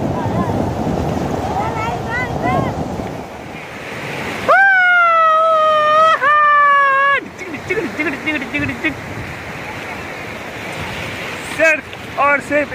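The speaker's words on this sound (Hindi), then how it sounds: "देखिए जूहू चौपाटी का ये उफ़ की लहरें" Ocean waves surge and break at Juhu Chowpatty beach, a steady broadband rush mixed with wind buffeting the microphone. A loud, sustained whistle-like tone cuts in midway, and voices are faintly present.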